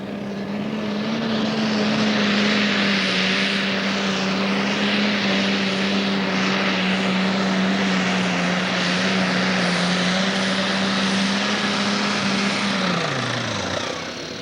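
A turbocharged super stock pulling tractor at a Central City, Kentucky pull holds a loud, steady, droning engine roar with a whining note for about thirteen seconds, then winds down at the end.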